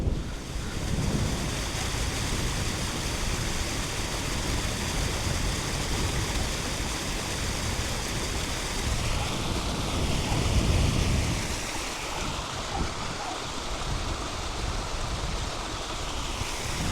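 Surf breaks and washes continuously on the sandy beach at Cayton Bay on the English seaside, a broad steady roar mixed with gusty wind buffeting the microphone; no voices.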